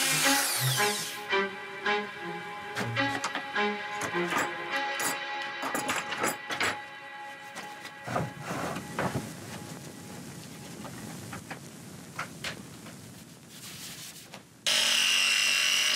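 A power router makes a finishing pass along a template on wood for a homemade dry separation toilet, with scraping, rubbing cuts and brief bursts, close and moderately loud, ending in a sudden steady hiss.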